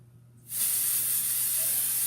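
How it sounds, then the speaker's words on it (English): An aerosol can of hair product, shaken and then sprayed onto hair, gives a close, steady hiss that starts abruptly and runs unbroken for about a second and a half. "and we spray."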